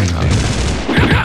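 Erron Black's dynamite blast in a Mortal Kombat fight, a loud close burst of crackling booms in two quick waves, with a brief voice line.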